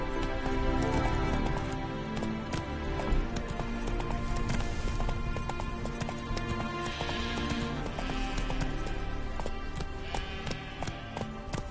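Hooves of Roach, the horse in The Witcher, clop in a steady quick trotting rhythm, close and clear, over constant rumbling ambience without pause.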